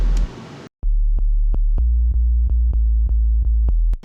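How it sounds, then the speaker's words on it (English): Simple sine-wave sub bass from a bass house production, a deep steady low tone sustaining for several seconds after a brief noisy burst, with regular sharp clicks or hits recurring over it. "that's a sub, you know, like some simple sine wave."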